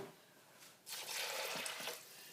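Water pours into a cooking pot of dry beans on a stovetop, a steady splashing pour starting after a quiet moment and running on close and fairly loud.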